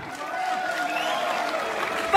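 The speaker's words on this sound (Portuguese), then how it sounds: "Uma salva de palmas para a Dona Elisa!" Crowd applause at a village religious festival on Faial island in the Azores, a steady moderate clapping with some crowd murmur, a brief louder burst at the very end.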